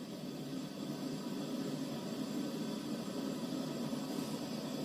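Steady roaring hiss of a Coleman propane camping stove burner running continuously, close and even, with no other sounds.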